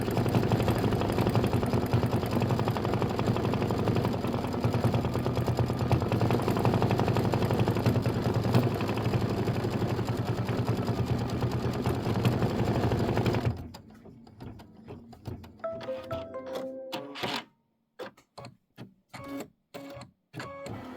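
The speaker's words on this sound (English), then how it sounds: "hit start again and let it stitch out the word world" An embroidery machine stitches a word onto a quilt block, running as a loud, steady rapid mechanical chatter before dropping to a quieter stop-and-go rhythm of short bursts toward the end.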